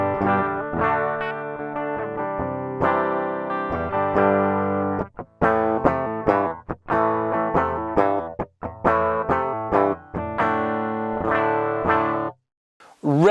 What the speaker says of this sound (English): This is the tone of the guitar on the bridge pickup without the